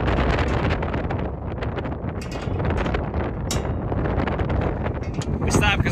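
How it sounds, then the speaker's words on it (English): Strong wind buffeting a Bronco truck in Moab during a direct headwind, a loud, close, continuous rushing roar with gusty surges across the whole stretch. "it's super windy, and we were kind of in a direct headwind"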